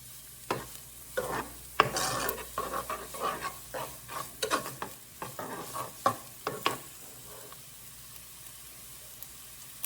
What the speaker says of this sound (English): And you just saute until these become translucent.